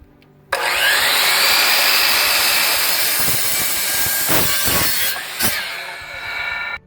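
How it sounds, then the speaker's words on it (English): A miter saw starts with a sudden loud whine and cuts through a wood block, the blade's high roar holding for several seconds and dipping as it bites into the wood, with no talk. "I happen to have a miter saw. So anyway, we're going to cut this first one"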